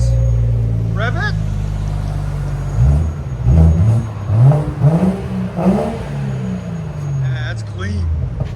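A 2017 BMW 740i with a 3.0L turbo inline-six and muffler delete idles, then revs in several quick rising and falling bursts, loud and close, with voices speaking briefly.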